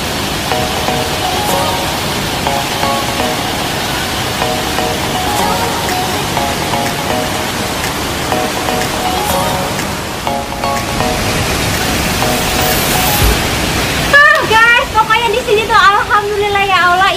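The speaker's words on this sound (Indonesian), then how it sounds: "bisa dilihat di sana tuh ada air terjun, air terjun" Steady, loud rush of falling water at a waterfall in a Hong Kong park, continuous throughout with people talking over it.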